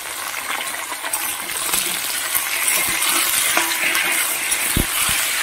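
Vegetables sizzle loudly in hot oil, a continuous crackling hiss punctuated by sharp pops and clinks as pieces drop in.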